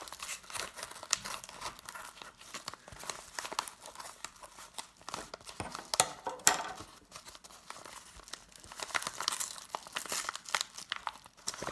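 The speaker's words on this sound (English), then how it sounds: "I just want to open the box first" A box being opened by hand, with continuous crinkling and rustling of packaging material, some tearing-like crackles, and a few brief louder crunches, close and fairly quiet throughout.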